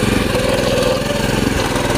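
A Kenza 830 cultivator engine runs steadily while its rotary blades till soil on iron wheels, a loud, close, continuous chugging drone with no speech over it.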